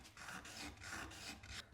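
Small quadcopter parts being sanded by hand, a rhythmic back-and-forth rasp with about four steady strokes, close and fairly loud, with no talking.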